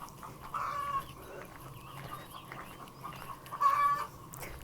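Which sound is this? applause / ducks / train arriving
ducks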